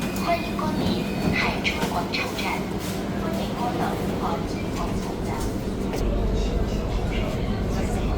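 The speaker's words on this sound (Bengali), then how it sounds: "ট্রেন চলে আসছে" A metro train in China pulls into a station, a low rumbling roar rising in the background as a person talks over it.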